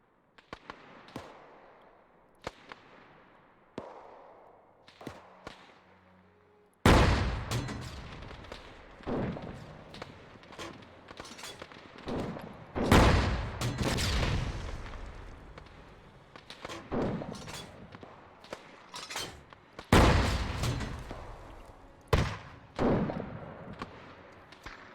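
Tank gun fire in a WWII Finnish–Soviet battle game set on Raate Road: repeated sharp blasts and booms at irregular intervals, some close and loud, others distant thumps, with sustained rumbling after the heavier shots.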